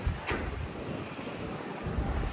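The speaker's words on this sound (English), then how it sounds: "Again, very, very windy." Strong wind roars across the pool deck of the Regal Princess cruise ship at sea, buffeting the microphone with steady rumbling gusts and no other clear sounds.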